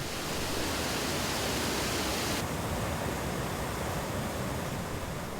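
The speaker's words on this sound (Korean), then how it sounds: "하늘로 승천하던 이무기가 우레를 맞은 듯 힘차게 떨어지는 물줄기, 용추 폭포다." Yongchu Falls, a 15 m waterfall swollen by heavy rain, pours down in a steady, dense roar. The hiss of crashing water fills the scene evenly and loudly from start to finish, with no voices.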